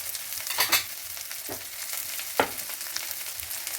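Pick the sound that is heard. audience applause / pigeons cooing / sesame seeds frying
sesame seeds frying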